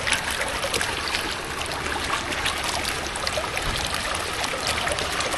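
Rain-season runoff in West Virginia pours steadily into a backed-up pipe mouth, a constant broadband rush of flowing water with no talk.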